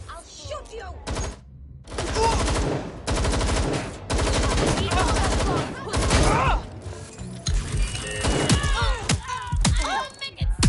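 Rapid automatic gunfire and single shots from the video game Watch Dogs Legion, loud bursts repeating in clusters, with voices shouting over parts of the action.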